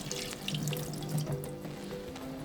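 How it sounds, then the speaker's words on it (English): Hands being washed under a running tap, a steady close splash and trickle of water with small spattering drips throughout. "Washing your hands under running water."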